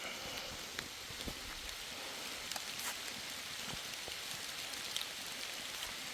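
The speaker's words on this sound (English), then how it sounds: "this thing is really still kicking considering how bad it's raining" Heavy rain falls steadily outdoors in a wooded area, a dense continuous hiss of drops with scattered sharper patters and no voices.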